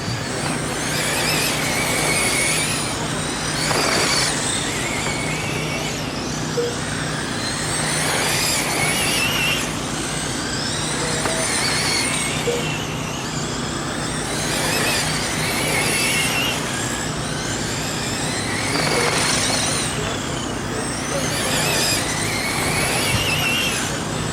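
RC race cars lapping an oval track, their high-pitched motors whining loudly and steadily, rising and falling in repeated sweeps as the pack passes by.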